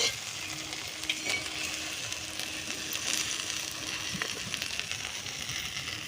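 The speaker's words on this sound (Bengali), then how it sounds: "আবারও দিয়ে দেবো ফুটান্ত গরম তেলে পাউরুটি" Bread frying in boiling hot oil gives a steady, close, continuous sizzle with fine crackling throughout and no voices.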